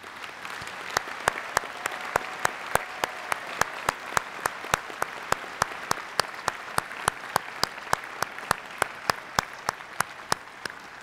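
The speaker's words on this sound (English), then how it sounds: "Let me ask you once again to applaud these soon-to-be graduates" Applause for soon-to-be graduates at an undergraduate honors convocation, heard as sharp, evenly spaced claps in a steady rhythm over a faint background murmur, moderately quiet.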